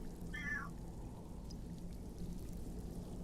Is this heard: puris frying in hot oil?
no